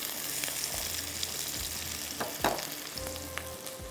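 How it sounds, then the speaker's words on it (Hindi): Food sizzles steadily in a pan, with a soft constant frying hiss and a few brief stirring scrapes, heard close up with nobody speaking. "अच्छा, थोड़ा सा इसको फ्राई करेंगे"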